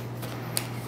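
A deck of Star Wars deckbuilding game cards gets a quick shuffle, a short close riffle burst standing out briefly above a quiet tabletop background.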